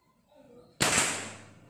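After a quiet hum, a single sharp shot from an air rifle with a local polygonal barrel cracks loudly nearby, then rings out and decays with a lingering whoosh.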